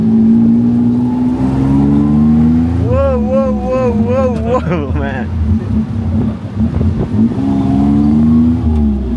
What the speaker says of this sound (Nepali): Oh tuk ride is here let's go